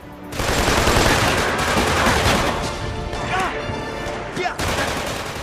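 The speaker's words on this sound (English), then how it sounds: "Gunshots are nice and thick, even the blood splatter." Rapid bursts of gunfire crackle loudly and continuously, dense automatic shots with a brief pause near the end, sounding like game combat.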